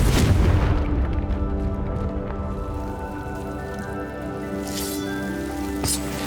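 A Confringo explosive spell goes off in Hogwarts Legacy on Nintendo Switch: a loud, boomy blast at the start, followed by a sustained crackling, rain-like wash over steady ringing tones with no talking.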